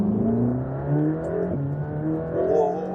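A Mercedes-AMG GT Black Series with a 4-liter flat-plane-crank V8 revving, heard as a steady droning engine note that rises and falls in pitch through gear changes, loud and close, with no talk.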